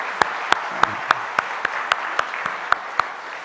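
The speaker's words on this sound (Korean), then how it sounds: "하늘께 영광의 박수 드리세요" A church congregation claps in unison at a Sunday worship service, about a dozen evenly spaced, crisp claps in a steady beat over a few seconds, fairly loud and close, with no talking.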